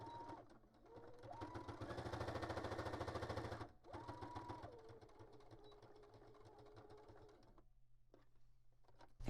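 Sewing machine straight-stitching through paper for a junk journal, a close, steady mechanical whir with a rapid needle rhythm that runs in long bursts, pauses briefly, and resumes.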